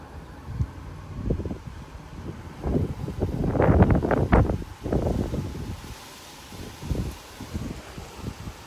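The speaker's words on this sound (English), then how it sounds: "Very windy weather." Strong 40-50 mph wind gusts in Frisco, Texas buffet the microphone in rough, uneven bursts, building to a loud peak midway and then easing into weaker, scattered gusts. No one speaks.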